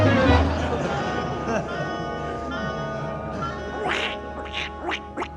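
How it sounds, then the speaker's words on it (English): A duck quacks in a 1944 radio comedy broadcast, with a run of several sharp, close quacks toward the end over a low, continuous background murmur. "Cute duck."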